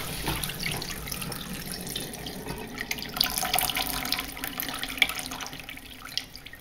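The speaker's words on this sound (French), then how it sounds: "J'ouvre l'eau chaude à fond." A hot water tap opened fully, running steadily into a sink with a continuous broadband rush and occasional brief drips or splashes, fairly close and alone.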